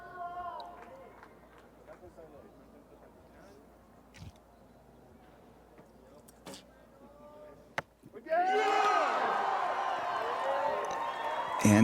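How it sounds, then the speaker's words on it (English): A crowd cheering for the Colombian men's archery team at the 2024 Pan American Championships in Medellin, a loud roar breaking out after a quieter stretch with commentary and scattered noise. "And you can hear that crowd, can't you?"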